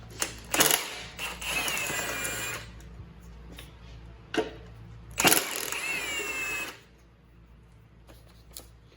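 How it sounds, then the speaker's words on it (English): An impact wrench works nuts off a 3.4L Toyota valve cover, firing two long rattling bursts plus a few short ones, close and fairly loud, with quiet gaps between. "I'm gonna use a impact here"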